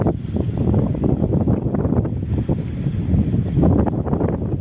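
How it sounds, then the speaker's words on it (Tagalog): Outdoor wind buffets the microphone in a steady, rumbling low roar with gusty surges, loud and continuous, no voices. "Hangin lang naman."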